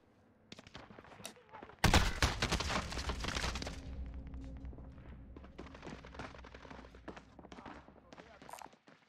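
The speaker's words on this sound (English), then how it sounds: "Machine gun there." Automatic gunfire in a Call of Duty match erupts as a loud, dense burst of shots, then gives way to scattered shots under ongoing speech.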